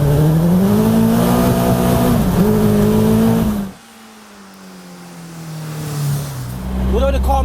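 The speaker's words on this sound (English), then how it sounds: "Although the car makes a lot of noises" A Caterham 360R sports car drives with a loud, close engine drone that drops suddenly as the driver lifts off, then rises again under acceleration, with a person talking over it.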